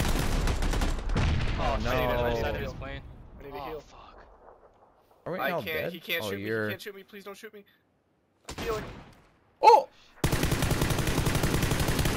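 Rapid bursts of SMG fire in PUBG crack through a fast-paced match, loud and close in short clusters, mixed with excited talk from players.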